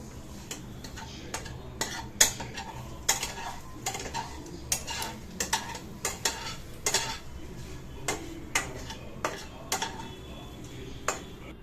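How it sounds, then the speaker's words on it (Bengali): A spoon stirring and mixing a dish in a metal pot, giving a run of close, irregular scraping clinks and knocks over a quiet background. "এবার ভালোভাবে মিশিয়ে নেব"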